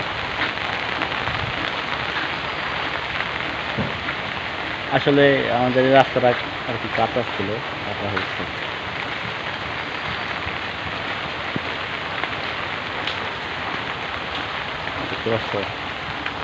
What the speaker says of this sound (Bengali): অনেক বৃষ্টি নামতেছে বাইরে